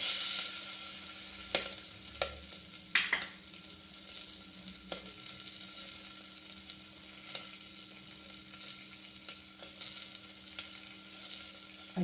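Green chillies fry in a pan with a continuous hiss and crackle, with a few spoon taps and scrapes early on and a steady sizzle after.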